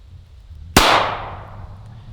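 A single sharp report from a PSA Dagger pistol during a torture test, loud and close, with a bright echoing decay tailing off over the following second against a low background hum.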